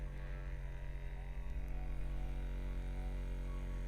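An S-caring mini percussion massage gun runs steadily with a constant motor hum and buzzing drone, close and even throughout, no talking.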